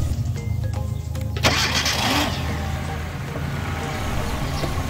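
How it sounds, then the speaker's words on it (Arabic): A Hyundai Matrix engine starts after a blown fuse is replaced and reconnected: a sharp crank burst gives way to a steady, close idle rumble, with no talking. "المحرك يعمل."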